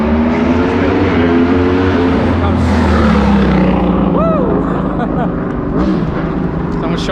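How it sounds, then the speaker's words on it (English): A motorbike revs loudly on a Warsaw street at night, its engine droning steadily with rising and falling pitch over constant city traffic noise and voices nearby. "Someone's showing off on the motorbike"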